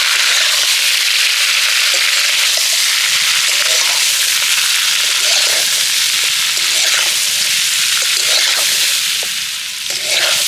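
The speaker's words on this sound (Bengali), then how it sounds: "এবার আমি কেটে রাখা আমগুলো তেলের মধ্যে দিয়ে দেব। ভালো করে কিছুক্ষণ তেলের সাথে নেড়ে চেড়ে ভেজে নেব আমগুলোকে।" Pieces of cut raw green mango tossed into hot oil for pickle, frying with a loud, steady hissing sizzle and occasional stirring scrapes, fading slightly at the end.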